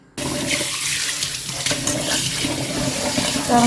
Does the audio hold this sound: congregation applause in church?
no